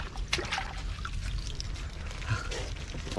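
Water pours and splashes as a large crab caught in a mangrove wreck is washed, a close, continuous rushing trickle with small splashes, heard alone without talk.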